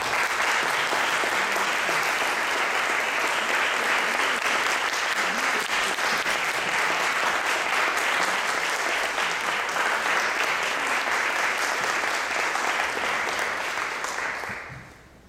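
An audience at a piano recital applauds to welcome pianist Queena Lu onto the stage. The clapping is loud, sustained and evenly dense, then fades out at the end.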